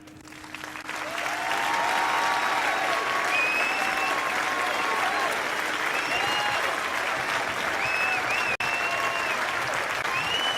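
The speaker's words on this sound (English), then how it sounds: "One last big round of applause for all of y'all." Audience applause closing a live indie game pitch contest of student projects, clapping swelling within the first seconds into sustained, dense applause with whistles and cheers rising above it, then continuing at full strength.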